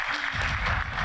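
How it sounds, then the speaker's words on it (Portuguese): Audience applause rings out at the final of a competition, a short burst of steady crowd clapping with no talk over it. "Uma forte salva de palmas."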